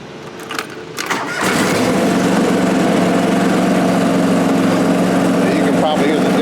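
A John Deere 445 lawn tractor engine cranks briefly with a few clicks, then catches and settles into a loud, steady running drone close by.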